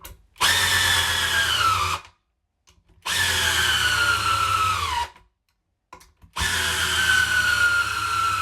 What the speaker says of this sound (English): So we're going to go with the cheapest drill first, which is the netter.